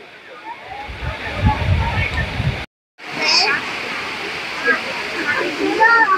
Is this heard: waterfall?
yes